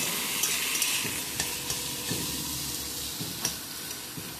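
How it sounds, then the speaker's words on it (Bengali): Onions frying in a pan, being browned for chicken biryani, give a steady close sizzle and hiss, broken by light, regular taps and scrapes of a spoon stirring them, with no voices. "পেঁয়াজটা আমি খুব সুন্দরভাবে ভেজে নেব।"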